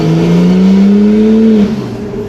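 Turbocharged Holden VL car engine accelerating on the road, a loud, close drone rising steadily in pitch for about a second and a half before dropping off as the throttle eases.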